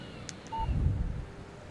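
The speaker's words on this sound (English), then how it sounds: "Text message from Barry." A text message alert chimes on a phone in Alan Wake Remastered, a couple of brief soft beeps and a short tone followed by a low muffled thump, faint and alone.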